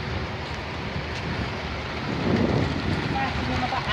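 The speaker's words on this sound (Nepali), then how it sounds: "कतारमा पनि पानी परेको" Rain falling in Qatar, a steady hiss of drops on surfaces that grows slightly louder midway, with faint voices in the background.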